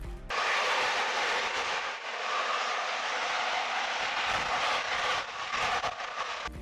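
Starship Ship 28 spin prime test at Starbase, engine turbopumps spinning up and venting, a distant broadband roar and hiss that holds steady for several seconds with slight surges, no talk.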